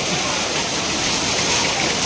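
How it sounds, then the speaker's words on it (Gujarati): Heavy rain during a hailstorm pours steadily from downspouts, a dense, loud, continuous rushing and splashing of water close by with no break. "જોવો તમે નીચે અને ઉપર આ બંબા ચાલુ છે"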